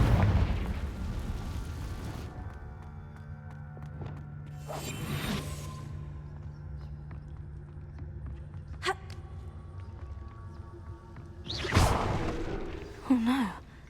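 A spell cast in Hogwarts Legacy gives a sharp whooshing burst followed by a boom, set against low ambient game music, with another bright blast near the end.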